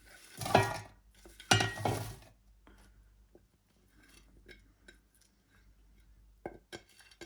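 Frozen onion cubes dropped into a metal cooking pot for chicken pulao, heard as two clattering, rattling tumbles early on, followed by quiet scattered clinks and knocks of kitchen utensils.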